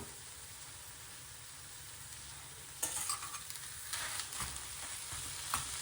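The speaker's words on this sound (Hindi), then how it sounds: "इसी स्टेज पे हम इसमें हरा धनिया भी डाल देंगे ताकि सब कुछ अच्छे से मिक्स हो" Spiced potato filling for stuffed aloo paratha cooks in a pan as green coriander is stirred in, a quiet sizzle that swells into louder scraping and stirring strokes partway through.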